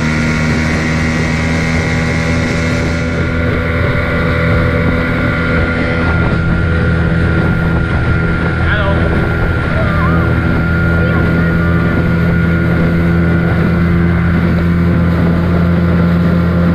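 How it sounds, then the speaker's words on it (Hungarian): A motorboat runs at speed across wavy water on a lake near islands, the engine a loud, steady, close drone with rushing wind and water noise throughout. "Na, mutatom a hangját a motornak."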